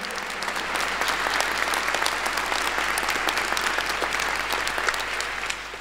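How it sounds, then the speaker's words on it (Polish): Steady, dense applause from an audience fills a church during a charity Christmas and New Year concert, sustained clapping at an even level with no talk over it. "brawa mogą być."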